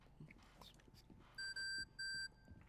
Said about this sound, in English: beeper goes off